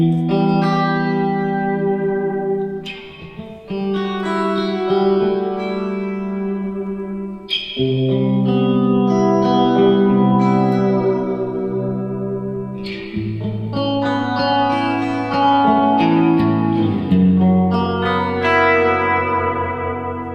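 Stratocaster electric guitar played through effects such as chorus, distortion, echo and reverb, with loud sustained chords and melodic lines ringing continuously without pause.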